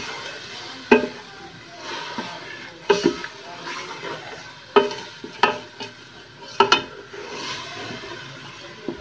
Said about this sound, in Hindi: अच्छे तरीके से भूनेंगे।